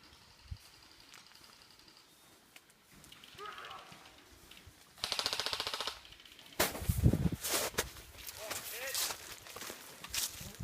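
Outdoor airsoft game in springtime woods: a few sharp gun shots, one brief rapid burst, scattered among rustling movement and people talking nearby.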